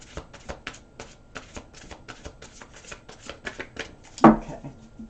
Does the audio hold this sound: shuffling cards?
yes